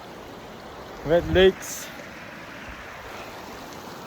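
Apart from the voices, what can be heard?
river stream flowing after crossing barefoot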